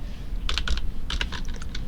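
Quick bursts of keystrokes on a computer keyboard as search words are typed in an indoor office or home setting, a short uneven run of clicks close up with no talking.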